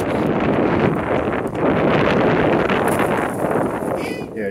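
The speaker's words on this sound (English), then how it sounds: "you can't hear me with the wind like that outside" Strong outdoor wind gusting around 30 miles an hour on an island beach, buffeting the microphone in a loud, continuous rumble that almost drowns everything else.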